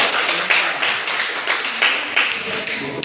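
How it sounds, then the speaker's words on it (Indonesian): Schoolchildren clapping in a classroom after a group presentation: dense, steady applause from many hands, close and lively, with no voices over it. "Oke, tepuk tangan dulu Kak."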